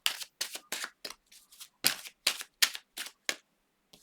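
Tarot cards being drawn and handled: a quick series of about a dozen crisp, close snaps and flicks in an uneven rhythm, separated by short silences.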